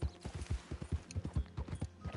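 A white horse in Red Dead Redemption 2 trots with crisp, evenly spaced clip-clopping hoofbeats, a steady rhythmic gait heard up close with no talk over it.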